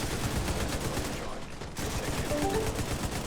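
Sustained light machine gun fire in The Division 2, a dense run of rapid shots continuing nearly throughout with a brief break midway, loud and close amid game noise.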